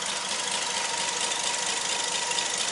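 A 1961 Chevrolet Bel Air or Impala V8 idling with a single glass pack muffler, a steady even rumble with hiss, constant and close with no talk.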